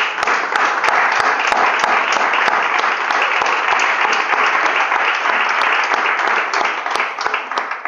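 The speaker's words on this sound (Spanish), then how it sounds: "Démosle un aplauso," A large audience claps in loud, dense, sustained applause that holds steady for several seconds before easing slightly at the end, with scattered sharp individual claps standing out.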